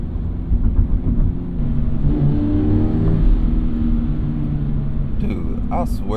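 Toyota GR86 engine pulling hard in 5th gear, a steady droning rumble that rises gradually in pitch, heard close from inside the car, with some faint noise at the end.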